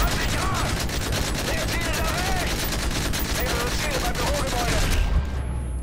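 Dense, continuous gunfire in Call of Duty: Modern Warfare 3, with rapid overlapping shots forming a sustained loud fusillade, while voices shout over the top.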